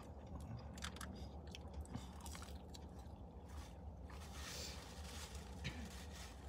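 Close-up chewing of Burger King food, steady wet crunching and soft mouth sounds running throughout, faint and with no talking.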